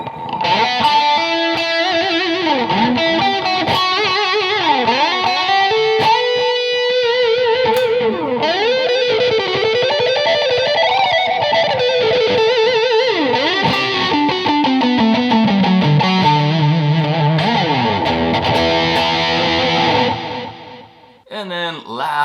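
An electric guitar through a JOYO DC-15S digital amp with delay plays a continuous melodic line with repeating echoes trailing each note, a steady loud passage with no voices.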